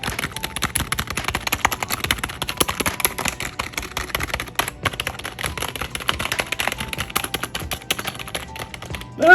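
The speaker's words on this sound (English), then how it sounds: "this is what the keys sound like." Rapid typing on ROCCAT membrane keyboard keys, a dense, close stream of soft clicks and taps with uneven rhythm and brief pauses, ending in a louder thump.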